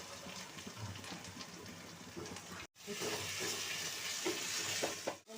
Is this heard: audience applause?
no